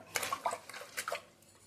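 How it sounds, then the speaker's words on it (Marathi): Water sloshes and splashes in quick irregular bursts as urad dal (black gram) is rinsed by hand, fairly close and soft. "उडदाची डाळ आहे ना, चांगली पाण्याने 2-3दा स्वच्छ धुवून घ्यायची आहे"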